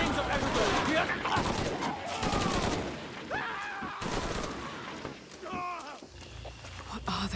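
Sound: gunfire in the video game Shadow of the Tomb Raider

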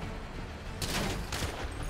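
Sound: gunfire in GTA video game roleplay

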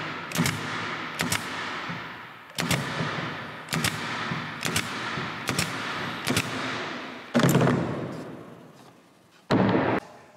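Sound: Cadex 23-gauge pin nailer shooting nails into plywood

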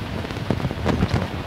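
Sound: rain falling on chickens' coop

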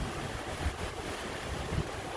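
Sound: cruise ship MSC Divina sailing, waves at the aft

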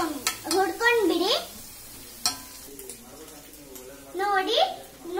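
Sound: egg being stirred and fried in a pan for egg bhurji

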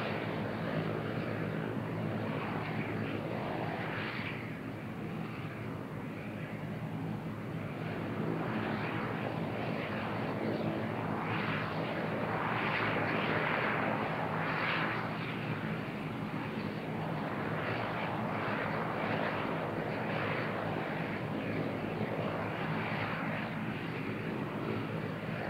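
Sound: De Havilland DHC-8 Dash 8 turboprop departing

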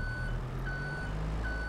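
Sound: Manitou forklift reversing beeps in video game Farming Simulator 22

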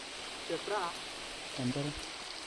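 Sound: heavy rain

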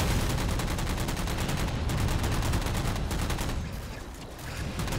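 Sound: gunfire from long-range shooting at Mantises in Halo 4 video game

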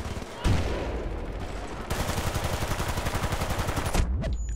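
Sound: M60 machine gun fire, from video game Battlefield Bad Company 2

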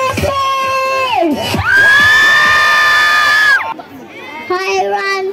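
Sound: crowd cheering and shouting at a live event

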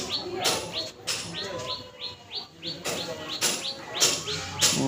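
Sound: flock of pigeons

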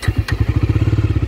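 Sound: Bajaj Dominar 250 motorcycle engine starting

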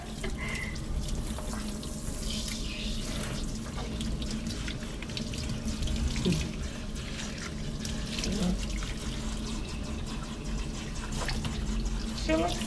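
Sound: water running while rinsing a dog

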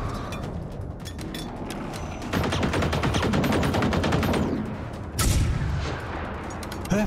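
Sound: gunshots in the video game Generation Zero

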